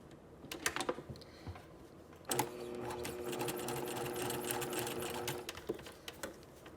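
A sewing machine stitches facing around a curved neckline, running in a steady whir for about three seconds after a few short starts and clicks, up close.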